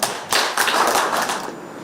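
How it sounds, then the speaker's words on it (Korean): Applause from the audience at an award ceremony for the Yeongju newspaper's 33rd-anniversary spring literary contest in Yeongju, starting abruptly after a brief pause and holding as a steady, dense crowd clapping for almost two seconds. "여러분 큰 박수로 맞아주십시오."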